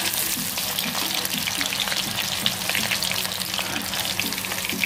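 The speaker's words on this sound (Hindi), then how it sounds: "मीडियम फ्लेम पे हमें इसे पकाना है" Breadcrumb-coated prawns deep-frying over a medium flame, a steady dense sizzle and crackle of hot oil running throughout with no talking.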